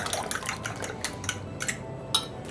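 A whisk or fork clinks against a bowl as three eggs are beaten with garlic for a lasagna filling, making a quick run of light, close metallic taps and wet sloshes with no voices.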